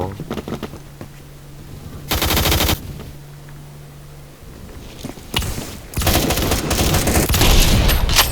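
Gunfire in the online shooter Phantom Forces, including the NTW-20 rifle: loud bursts of automatic fire and sharp shots in rapid clusters, close and harsh, with heavier booms toward the end.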